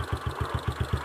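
Motorcycle engine running, a close, steady low putter of evenly spaced firing pulses at a quick, regular rhythm, with no speech over it.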